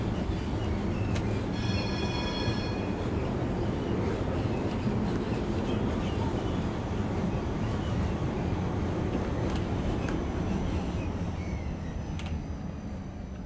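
A ULF Type B tram in the video game Tramsim sets off with a steady, loud rolling drone and rumble, a brief tonal chime early on and faint clicks as it moves along.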